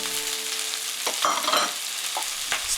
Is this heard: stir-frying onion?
yes